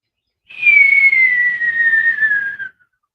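A voice imitates a football whistling through the air after it leaves a quarterback's hand: one sustained whistle about two seconds long, gliding steadily downward in pitch, loud and close, with no other sound around it.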